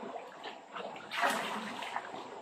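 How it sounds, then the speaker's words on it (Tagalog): Water gushes from a large pipe at a rural provincial tap, a steady rushing and splashing flow that swells louder midway, close by and continuous. "Yan yung tubig niya, ganun kalaking tubo."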